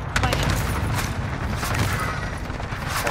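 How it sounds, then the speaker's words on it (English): A stun grenade blast in Call of Duty: Modern Warfare lands inside a busy firefight, a sharp bang followed by rattling gunfire and rumbling noise that stays loud for a few seconds. "Stun grenade out."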